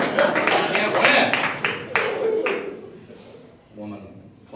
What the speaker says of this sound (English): Woman clapping for my retarded joke.